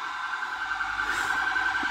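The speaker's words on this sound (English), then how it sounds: "I apologise if you can hear a siren in the background." A siren wails steadily in the background outside, holding a sustained tone for the whole moment with no talking over it.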